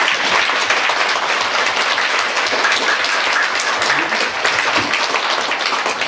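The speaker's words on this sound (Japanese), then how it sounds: "큰 박수 한번 쳐주세요" A lecture audience in Sapporo claps loudly and steadily, a thick continuous roar of many hands filling the hall without pause or talking.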